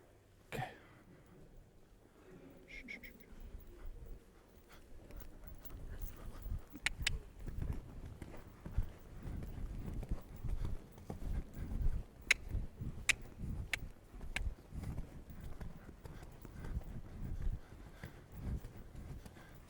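Horse hooves thudding on an arena surface during showjumping training, a soft rhythmic stride at moderate distance, with a few sharp knocks and an occasional cough over quiet background.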